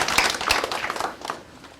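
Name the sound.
audience clapping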